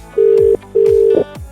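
Phone ringback tone on an outgoing call, two steady electronic tone bursts with a short gap, loud and clear over faint background noise.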